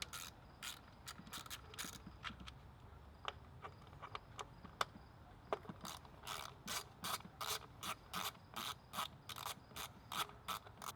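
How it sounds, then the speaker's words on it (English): An 8mm ratchet loosens the ignition coil bolts on a Ford Focus RS, giving rapid, close metallic clicking in repeated bursts, with the clicks growing louder and more regular toward the end. No one speaks. "we're going to go ahead and use an 8mm, start loosening the coils up so we can pull them out"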